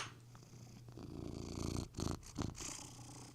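A cat purrs softly up close in a quiet indoor room, a low continuous rumble that swells and breaks into a few louder pulses near the end, with no voices over it.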